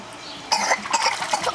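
A person coughs after breathing in water while underwater, several harsh, sputtering coughs in quick succession following a quiet lead-in, close and fairly loud.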